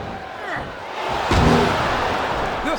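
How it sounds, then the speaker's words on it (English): A capacity arena crowd in the video game WWE SmackDown vs Raw 2007 murmurs and swells during a match, a continuous moderate roar with a brief thud partway through. "This capacity crowd is making their opinions known tonight"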